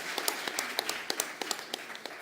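An audience applauds at an agroecology event for climate change adaptation, giving a short, moderate round of scattered claps with a few sharper individual hand claps standing out over about two seconds.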